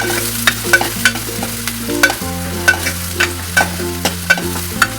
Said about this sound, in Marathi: लसूण टाकूया, कांदा टाकूया, चांगलं परतून घेऊया, कांदा।